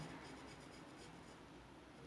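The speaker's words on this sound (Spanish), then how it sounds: "Entonces voy moviendo el lápiz, trato de mover el lápiz en diferentes direcciones, no en una única dirección." Graphite pencil shading across paper in long strokes, the lead moved in varied directions, giving a steady, soft, continuous scratchy rub throughout, close and quiet with no talking.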